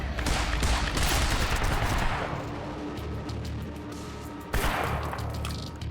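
Dense, sustained gunfire in the video game Quantum Break, loud and continuous with overlapping shots, dipping briefly before another burst near the end.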